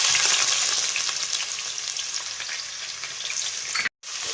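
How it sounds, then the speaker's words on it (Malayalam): Garlic and ginger fry in oil for a Kerala-style rambutan pickle, a loud, dense, steady sizzle heard up close that cuts out for a split second near the end. "ഇഞ്ചിയും വെളുത്തുള്ളിയും എല്ലാം കൂടെ നല്ലപോലെ മൂത്ത് വരട്ടെ കേട്ടോ"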